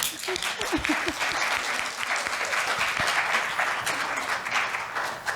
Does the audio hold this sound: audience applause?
yes